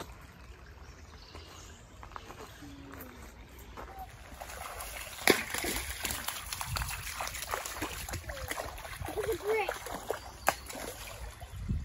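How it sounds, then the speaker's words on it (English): Water splashes and trickles in irregular bursts with a few sharper splashes, faint crickets in the background, and people talking over it. "Splashing around?"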